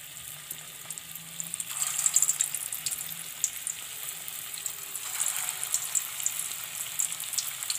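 Chicken koftas frying in oil over a low flame, a soft steady sizzle with gentle crackles that swell briefly as pieces go into the pan, close and without speech.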